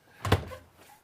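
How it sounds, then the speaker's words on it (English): A door on a 2022 Puma 28BHSS2 travel trailer is pushed shut with a single close, solid thunk, followed by a brief quiet rattle. "Have to shut that door first"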